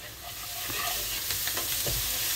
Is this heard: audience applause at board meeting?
no